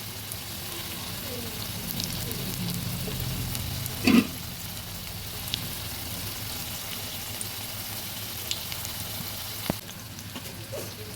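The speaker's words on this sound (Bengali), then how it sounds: "এগুলো আমি মুচমুচে করে ভেজে নিয়েছি এবার তুলে নেব" Banana flower pakoras deep-fry in oil on medium heat, a steady low sizzle with a faint bubbling wash, broken by one brief louder clatter near the middle and a few small pops.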